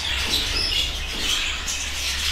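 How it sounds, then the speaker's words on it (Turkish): Pet birds chirp and twitter continuously while waiting for their food, a dense, steady chatter of small calls heard close up and fairly loud, with no talking. "Kuşlar şu an zaten mamanın hazırlandığını farkındalar."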